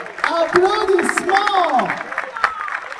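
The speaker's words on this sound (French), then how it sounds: "applaudissements" Audience applause and clapping fill a convention panel room at a dubbing-actor talk in Toulouse, steady and fairly close, with voices and babble running over the clapping throughout.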